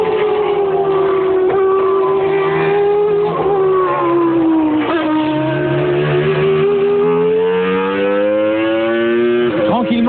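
A Renault Espace F1 with its 3.5-litre Formula One engine screams steadily and loudly, the pitch climbing through a sequential gearbox as revs rise toward 14,000 rpm, with brief dips at each gear change.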